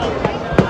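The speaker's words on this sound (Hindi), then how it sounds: "आतिशबाजी" Fireworks bursting at a night celebration at the Ajmer dargah during Urs, two sharp pops over a steady crowd din.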